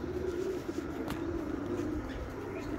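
Soft, low cooing of pigeons kept in a rooftop coop at a home, heard close and continuous against a steady outdoor background, with no talking.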